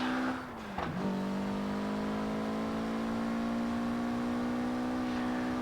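In Forza Horizon 4, a modified 1992 Mitsubishi Galant VR-4 engine dips briefly, then settles into a steady, loud, sustained high rev with a buzzy harmonic drone.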